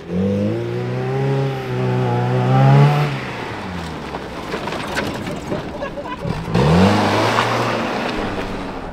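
A small truck's engine revs up and down as the gas is pressed, rising and falling close and loud, with a second climb near the end and people talking over it.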